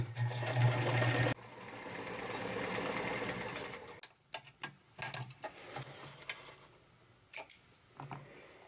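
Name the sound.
sewing machine stitching a sweater neck facing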